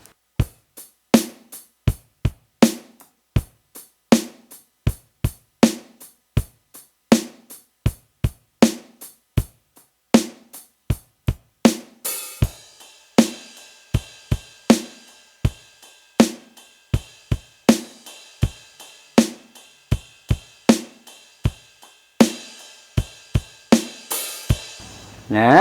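A drum kit plays a steady groove, crisp kick and snare hits at first, then cymbals and hi-hats fill in, with a crash at the end.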